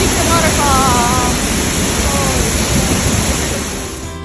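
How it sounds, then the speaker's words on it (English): A steady, loud rush of a waterfall reached through a cave in Iceland fills the whole clip, with a voice briefly heard over it. "Secret waterfall!"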